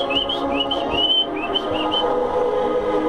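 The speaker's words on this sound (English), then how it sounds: "Whistles." Bright, sliding whistle tones repeat in quick phrases over a steady, dense electronic music bed with a thumping low end.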